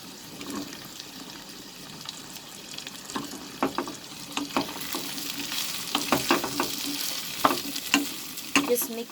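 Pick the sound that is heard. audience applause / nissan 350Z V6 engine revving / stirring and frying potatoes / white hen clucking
stirring and frying potatoes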